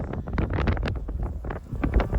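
Strong wind buffets the microphone with a continuous low roaring rumble that gusts unevenly, outdoors while moving cows.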